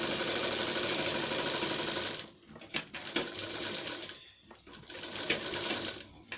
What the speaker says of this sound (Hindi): यहाँ पर हम इसमें से सिलाई लगाएंगे इस तरह से